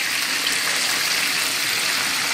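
Wet, hissing squelches come from a raw chicken kebab mixture being squeezed by hand to press out water, continuous and close-up with no talking.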